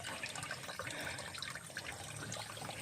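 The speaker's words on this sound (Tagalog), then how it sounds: "May batis ditong maliit." A small outdoor brook runs steadily, a soft continuous trickle and babble of flowing water with no voices over it.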